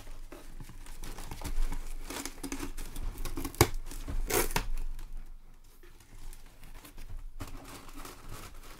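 Funko Pop mystery box being opened, cardboard crinkling and tearing up close in short scratchy bursts with a sharp rip partway through, quiet and intimate.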